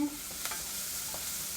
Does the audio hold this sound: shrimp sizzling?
yes